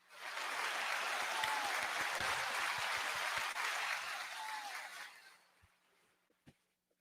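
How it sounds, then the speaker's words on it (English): Studio audience applause for a small business expert arriving on a business talk show: about five seconds of dense, even clapping that thins out, leaving a few scattered claps before silence. "I was hoping my applause went a little bit longer"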